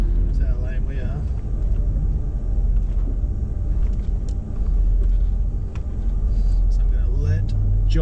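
A VL Commodore with an RB30 turbo engine rumbles and accelerates from inside the car, a low steady drone with rising surges, while voices talk over it.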